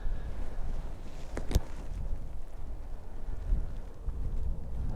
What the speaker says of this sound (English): I hit that really good because this wind's quite strong